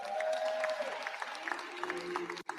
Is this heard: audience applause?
yes